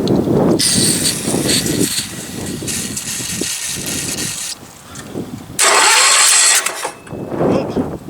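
A Sears lawn tractor engine fires after its coil is hooked up, coughing and sputtering in uneven bursts with a loud surge near the end, close and fairly loud.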